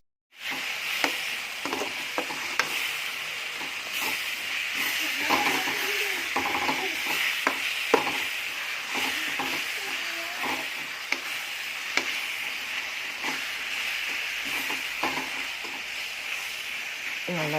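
A spoon stirs chicken curry in a pan, repeated scraping and clinking strokes over a faint sizzle, close and irregular throughout without speech.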